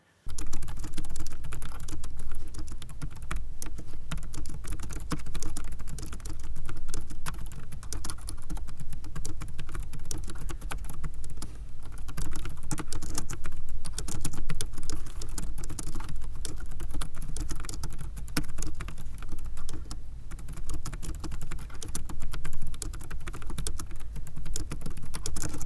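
Continuous typing on a compact Logitech K380 Bluetooth keyboard with round, rubbery-feeling keys, a steady close patter of soft key presses running throughout without talk.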